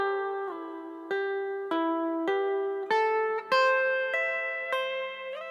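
An electric guitar playing a horizontal arpeggio sequence, single notes picked, hammered on, pulled off and slid up the neck in a steady rhythm of clearly separated, ringing tones, close and alone.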